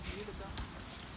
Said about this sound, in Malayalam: ഏതായാലും മഴ